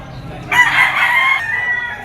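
A ten-month-old white-legged bull stag gamefowl rooster of Boston banderado line crows once, loud and close, a single drawn-out call rising over faint background noise.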